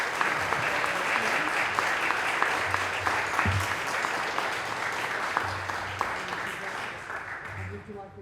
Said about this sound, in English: Please, a big round of applause for Manny Mendoza.